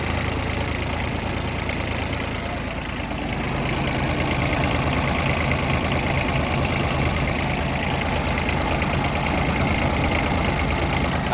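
An old Japanese Hinomoto CX14 tractor with a three-cylinder engine runs at a steady idle, a loud, close, continuous mechanical chug and clatter with no talking over it.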